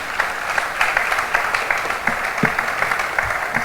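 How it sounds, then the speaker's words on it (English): A fine arts awards celebration audience applauds visual arts students with steady, dense clapping that fills the room evenly from start to finish, with no speech over it. "Another round of applause for the visual arts students."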